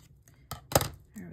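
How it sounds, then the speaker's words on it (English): Scissors snip away excess paper on a handmade journal tag, giving two or three short close cuts in quick succession with a faint voice nearby. "And just cut the excess out."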